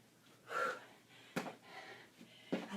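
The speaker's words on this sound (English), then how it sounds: "We just listen to our breathing, right?" Heavy, effortful breaths from someone mid-workout at a quiet boot camp class with no music, coming in three distinct gasping bursts close to the mic.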